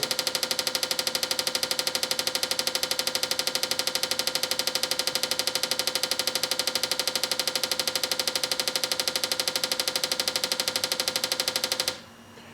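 An engine idles with a fast, even pulsing beat for about twelve seconds, then shuts off abruptly, leaving quiet.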